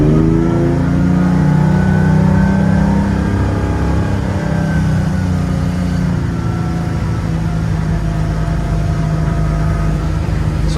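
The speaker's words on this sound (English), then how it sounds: "let's get lined up and drop the throttle." A Cobalt 200 boat engine drones loudly and climbs in pitch as it accelerates onto plane, with steady water and wind noise throughout and no talking.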